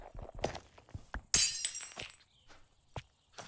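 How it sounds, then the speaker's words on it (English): A single loud glass-shattering burst in Minecraft with the MC Eternal 2 modpack, a sudden bright crash that rings out briefly between soft block-placing clicks. "That glass breaking sound is intense."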